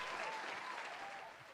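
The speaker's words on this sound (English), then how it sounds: "I'm giving myself a hand clap" A canned applause sound effect plays during a wrestling talk stream: a quiet, continuous wash of many hands clapping that fades slightly toward the end, with no speech over it.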